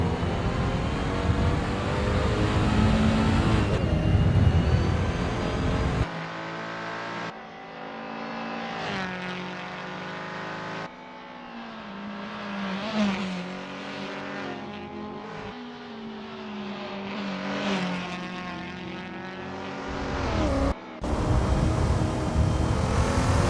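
1960s race cars warming up at Preluk 1974 in Assetto Corsa, engines revving loudly and shifting through gears, several cars passing close with rising and falling pitch, no talk.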